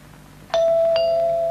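A doorbell in a vintage UK television advert gives a clear two-tone ding-dong, close and loud, with a ringing tone that sustains to the end over faint background hiss.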